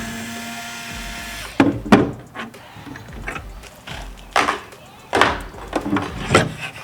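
A power drill backs screws out of hardware on a wooden desk, giving several short, sharp whirring bursts with quiet pauses and a faint hum before the first burst.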